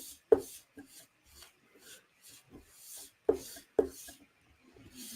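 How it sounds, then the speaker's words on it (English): A magic eraser rubs oil off a DLC-coated knife blade in rhythmic scrubbing strokes, with a few sharper scraping hits, close and quiet against a near-silent background. "we're going to take a magic eraser and we're going to rub the oil down"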